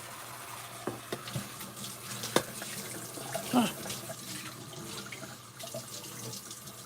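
Cold water runs from a tap into a sink, a steady splashing flow with occasional clunks and knocks, heard close, with a voice now and then over it.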